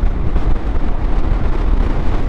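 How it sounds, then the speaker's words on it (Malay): Strong wind roars across the mic while riding a Yamaha Xmax 250 scooter in Malaysia, a loud continuous rumbling buffet with low-end gusts and no break. "Angin kuat tu, pakai sport windshield"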